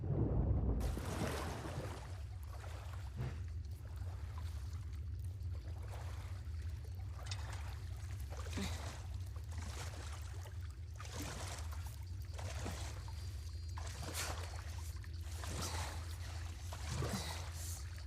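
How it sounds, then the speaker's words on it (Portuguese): Water sloshing and trickling around a boat in The Last of Us Part II, heard as a continuous wash with repeated soft splashes of paddling or lapping, with no talking. "O cara não tá escutando que a água tá fazendo um barulho estranho?"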